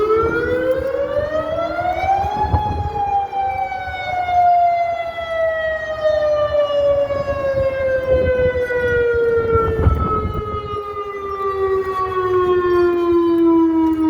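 A modulator civil defense siren under test wails loudly and close by, its tone sweeping up sharply then sliding slowly down in one long continuous howl.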